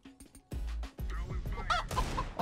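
Chicken clucking in the video game CS:GO, short squawky calls mixed with loud, sharp bursts of in-game noise that sound like gunfire.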